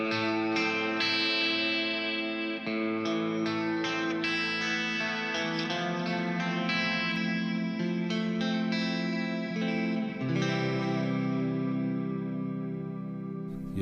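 Strandberg Salen electric guitar chords drenched in reverb, ringing out with long shimmering tails and a thick, modulated tone, played steadily throughout with no voices.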